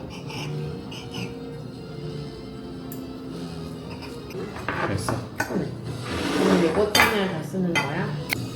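Cutlery scraping and clinking against a plate while spinach pizza on a tortilla crust is cut, the scrapes building louder toward the end over a low room hum.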